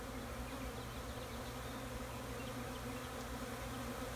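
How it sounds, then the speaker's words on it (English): Honeybees in an opened backyard beehive, with a drone among them, make a steady, dense buzzing hum, soft and continuous with no voices. "You can see we got a bunch of bees."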